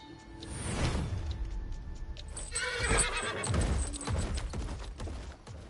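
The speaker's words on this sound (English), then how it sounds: "There's the horse." A horse in a Street Fighter 6 stage whinnies loudly near the start and again midway, with hoofbeats and clattering movement underneath, fairly close and unaccompanied by talk.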